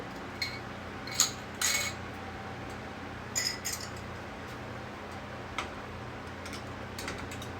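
Glass canning jars clink and knock a few times as they are lowered into a canner of water for raw meat canning. The contacts are sharp and separate, spread over steady background noise.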